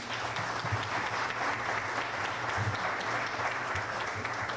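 Audience applause at a tribute ceremony for Lalo Gámez Solano, a steady dense wash of many hands clapping throughout, fairly loud and continuous with no talk.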